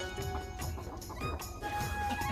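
Several chickens cluck and chatter nearby, overlapping calls in an irregular rhythm over a low background hum.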